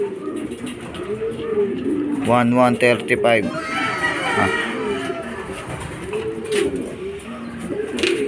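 Racing pigeons arriving at the loft after a club training flight coo in soft, throaty bursts close by, with someone talking over them and a brief rhythmic warble in the middle.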